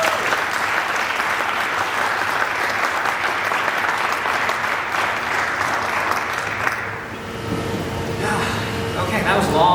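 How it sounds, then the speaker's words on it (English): Sustained, dense applause from a large audience, fairly loud and steady, tapering slightly near the end. "Another round of applause, please."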